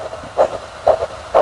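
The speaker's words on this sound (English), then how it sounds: "this teddy bear that has a recording of his heartbeat" Recorded heartbeat of a deceased organ donor played back from a teddy bear: three soft, evenly spaced double thumps, each pair a stronger beat followed by a lighter one, with no talk over them.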